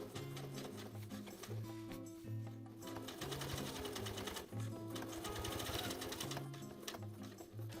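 Close, rapid clatter of a sewing machine topstitching the pocket edge of jeans with contrast thread, running in bursts with short pauses, over faint background music.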